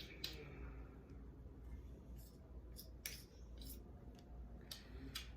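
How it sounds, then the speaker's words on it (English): Metal spoon scraping peanut butter off another spoon while making Christmas peanut butter balls, a series of soft, close clinks and scrapes at uneven intervals over a low kitchen hum. "to get the peanut butter out the spoon, I use another spoon"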